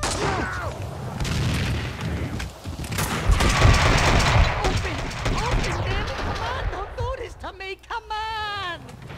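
In Max Payne 2, a grenade explosion and bursts of gunfire roar loudly for several seconds, then fade as a voice speaks over the tail end.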